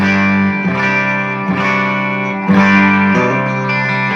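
Electric guitar played through a Bad Cat Cub 15R amplifier on its 12AX7 preamp setting, strummed chords ringing loud and sustained with a distorted, effects-laden tone, struck again roughly every second with no talking.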